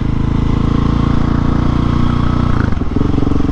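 A Husqvarna 701 motorcycle rides along with its single-cylinder engine droning loud and close, a steady throbbing note that shifts in pitch near the end as the rider changes throttle.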